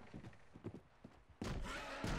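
Horse hooves clip-clop in Red Dead Redemption 2 online, a quick run of soft thuds followed by louder, heavier galloping beats, fairly faint overall with no talking.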